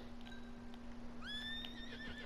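Horse neighs in the video game Red Dead Redemption 2, a quiet, somewhat distant whinny rising and wavering near the end, over a steady low hum and soft ambience.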